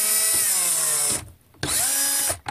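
A cordless drill driver spinning a sponge in a bucket to make ground foam scenery: two loud, close whirring bursts with rising and falling motor pitch, separated by a brief pause.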